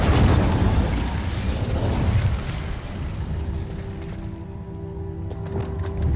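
The Incendio fire spell in the game Hogwarts Legacy erupts as a loud, roaring whoosh of flame with a booming low rumble that slowly fades into a softer crackle and whine. No voices.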